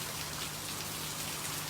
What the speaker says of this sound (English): Sorry, I had to move in because it started raining.